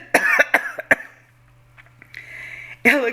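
A person coughs: three quick, sharp coughs close up, a quiet pause with faint breathy sounds, then one more cough at the end.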